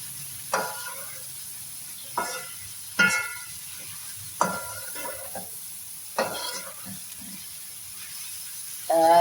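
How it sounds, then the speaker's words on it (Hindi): Minced meat cooking with spices in a pan, with a quiet sizzle under a series of sharp stirring scrapes that come roughly every one to two seconds, close by and with no voices. "ये डाल के मैं इसको मसाले के साथ कीमे को थोड़ा देर पकाऊंगी, 1-2 मिनट।"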